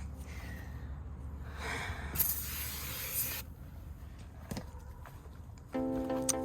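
A spray bottle of cleaner is squeezed a couple of times onto a car's interior windows, producing short hissing bursts close to the microphone in an otherwise quiet cabin, followed by a brief tonal beep-like sound at the end.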